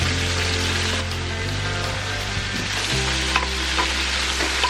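Onions sizzle and fry loudly in a stainless steel pan after browned oxtail, with a continuous crackling hiss and occasional scraping stirs, no voices.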